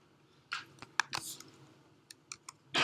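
Scattered clicks and taps of computer keyboard typing, irregular and fairly faint, with a few sharper key strikes and a louder burst at the end.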